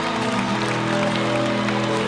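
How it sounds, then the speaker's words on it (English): Applause at a gospel event, steady and dense throughout over sustained music tones, moderately loud and continuous. "give a round of applause"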